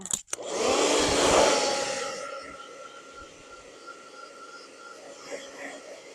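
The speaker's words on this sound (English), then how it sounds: "I'm going to pull this out and hit it with my dryer a little bit" A hair dryer blasts loudly for about two seconds while drying ink on a pillow, then its roar drops to a faint background hum.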